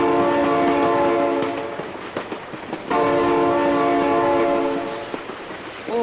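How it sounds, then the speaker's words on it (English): A loud, sustained train horn blasts twice in a BeamNG driving game, with a passing train rumbling and clattering on the rails between and beneath the horn. "Oh my god, train!"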